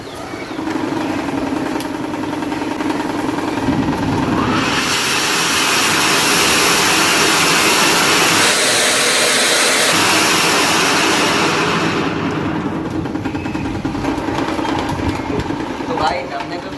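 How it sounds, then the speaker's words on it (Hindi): A Diwali anar fountain firecracker sprays and roars loudly beside a running electric fan, the steady whirring fan joined by a surging hiss that swells midway and fades back toward the end. "अब इस अनार को मैं जलाता हूँ और इस पंखे को चला देता हूँ"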